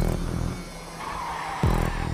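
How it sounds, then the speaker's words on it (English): A Nissan GT-R in GTA 5 squeals its tires in a short skid over the engine's steady drone, a brief gritty slide that fades and then picks up again. "Just listen to the engine."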